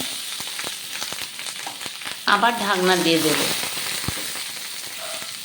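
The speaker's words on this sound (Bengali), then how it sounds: "এইভাবে মাছও সেদ্ধ হয়ে যাবে আর পাতাটাও ভাজা ভাজা হয়ে যাবে" Hilsa fish wrapped in banana leaf frying in hot oil: a continuous sizzle that swells into a louder crackling burst, with a voice speaking briefly over it.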